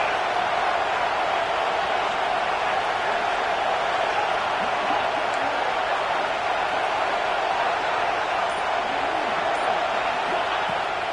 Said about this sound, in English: this crowd trying to help the defense get off the field